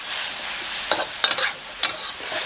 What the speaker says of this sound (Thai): ท้ายก็ใส่ใบกระเพราลงไปครับ ผัดนะครับ รอบหนึ่ง เพื่อที่จะให้ใบกะเพราสุก